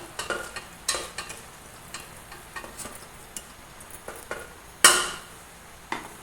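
Onions and green chillies frying in a pan for pumpkin dappalam, a soft background sizzle broken by scattered utensil clicks and scrapes, with one sharper clatter near the end.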